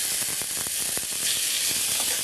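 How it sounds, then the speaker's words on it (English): Roasted red peppers sizzle in a hot pan, a steady bright hiss with faint crackles and ticks running alone throughout. "Take our roasted red peppers and put in the pan."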